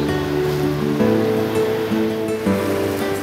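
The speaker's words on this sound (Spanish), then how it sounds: "Sentir el mar por primera vez." Sea waves wash in a continuous surging hiss, steady and moderately loud, with a tonal music bed running beneath the surf.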